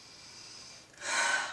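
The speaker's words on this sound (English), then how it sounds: "Please take a deep healing breath." A single deep breath drawn in and let out during a guided healing meditation, close and soft, rising to a brief rushing exhale at the end, with no voice over it.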